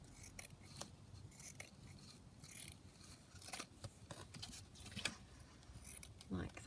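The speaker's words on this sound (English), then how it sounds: "So I'm going to just cut another skinny strip off." Scissors slice across a thin strip of lace for a junk journal, producing soft repeated snips and faint rubbing close by, quiet overall, with no voices.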